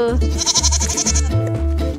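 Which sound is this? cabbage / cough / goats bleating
goats bleating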